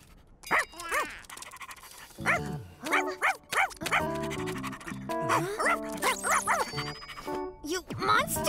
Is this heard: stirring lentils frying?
no